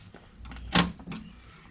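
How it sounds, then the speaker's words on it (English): A Jeep Wrangler JK door is pushed shut by hand, a single sharp latching clunk midway between soft rustles, close and isolated, with no voices. "I'm going to simulate closing the door."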